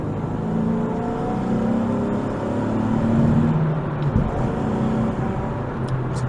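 A 2013 Nissan 370Z with a manual gearbox revs from inside the cabin, giving a throaty, rumbling engine note. It swells and eases back under a steady road drone. No one speaks.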